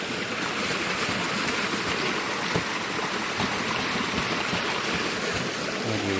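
Clear water rushes continuously along a gold-mining ditch at a traditional mining site, a close, steady broadband gush with small splashes and no voices.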